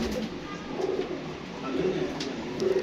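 A female pigeon coos in a loft setup, low soft repeated calls at close range against a steady background hum.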